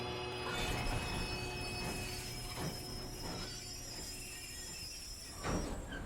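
Train in the video game Red Dead Redemption 2, a steady rolling rumble with faint wheel squeal and metallic hum, carrying continuously at moderate level with a few brief clanks.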